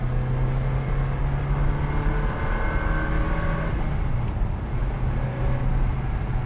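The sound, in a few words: 2003 Ferrari 360 Modena Spider driving, six-speed manual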